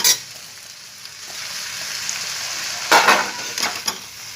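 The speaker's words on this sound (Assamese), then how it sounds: "এতিয়া মই কণী আৰু ভাজিখিনি পূৰা মিক্স কৰি এনেকৈ দিম" Egg and vegetables for chowmein stir-fry in a pan with a soft, steady sizzle. A few sharp scraping clatters of the utensil against the pan come near the end.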